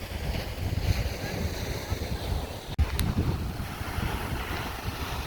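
Pacific Ocean waves roll onto the shore of Vancouver Island, a steady low roar of surf mixed with gusty wind buffeting the microphone, continuous and fairly close, with one brief dropout.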